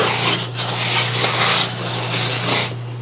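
A flap sander works a handcrafted wooden skateboard deck with a continuous loud abrasive rasp and a steady motor hum underneath, alone and close.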